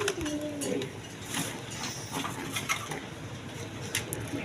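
A red pair of Danish pigeons cooing at a pigeon seller's, with soft, low coos running through a steady background of noise and occasional clinks.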